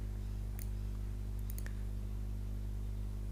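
A computer mouse clicks faintly a few times, once alone and then in a quick cluster, over a steady low electrical hum while working in MS Word.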